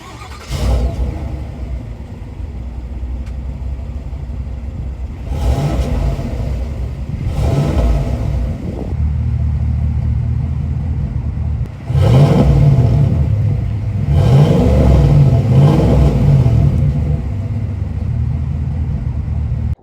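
A 2025 GMC Sierra 1500 Denali Ultimate pickup with dual exhaust, revving in bursts in normal mode and then sport mode, each blip a deep, loud exhaust roar that swells and fades, the later ones heavier.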